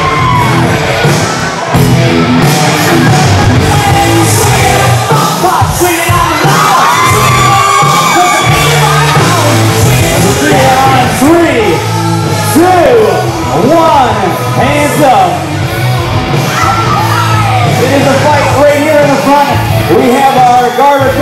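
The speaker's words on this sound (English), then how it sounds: "Let's give a big round of applause for our bridesmaid out here tonight." A wedding crowd at an outdoor reception in Centennial Park, Munster, Indiana, cheers, whoops and shouts for the bridesmaid. The dense, loud din runs throughout, with voices and a harmonic musical bed underneath.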